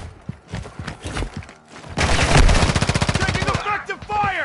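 Automatic gunfire in Call of Duty DMZ: scattered single shots and footsteps at first, then a loud, rapid sustained burst of machine-gun fire up close, ending with ringing metallic tails.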